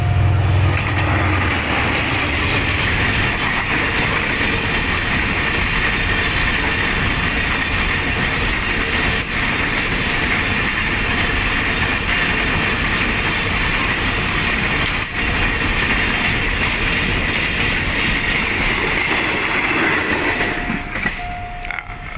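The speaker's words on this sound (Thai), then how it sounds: "แล้วก็มามาเจอรถไฟพอดีนะครับ บ้านป่าเสือมีรถไฟ นะครับ" A train rumbles past close by with a continuous loud roar and rattling wheels that lasts the whole clip, easing slightly near the end.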